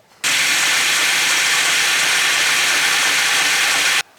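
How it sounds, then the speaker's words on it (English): A belt grinder running a 600 grit belt smooths metal pins for a ladder Damascus piece, giving a loud, steady abrasive hiss that starts abruptly and holds evenly for nearly four seconds before cutting off. "Go smooth these out on the grinder on a 600 grit belt."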